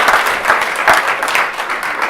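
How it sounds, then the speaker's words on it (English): A room full of people bursts into loud, dense applause at a gathering, a sustained wash of clapping hands close by with no speech. "Give yourselves a round of applause."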